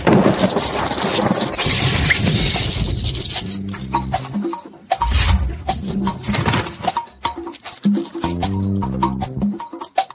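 Thunder and rain in a dubbed drama scene, with a lightning strike: a dense roar of heavy rain for several seconds, then a low booming crash, followed by tonal music-like sounds over quieter rain.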